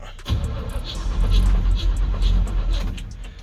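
A car engine cranks over and over on a weak battery in a slow, labored rhythm, the starter grinding repeatedly without catching, close by.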